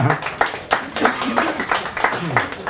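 Audience clapping at a concert in an underground club, a modest scattering of hand claps with uneven rhythm, fairly close, with voices talking over it.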